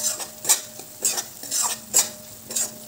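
Masala frying in oil in a pan for chival bhaji, a close sizzle broken by a regular series of spoon scrapes and clinks as it is stirred about every half second.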